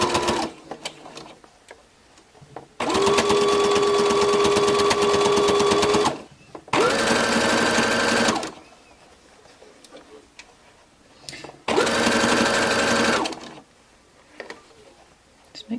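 A sewing machine stitches fabric strips for a flower brooch in three loud, close bursts of rapid mechanical whirring, one long and two shorter, separated by quiet pauses with faint handling noises.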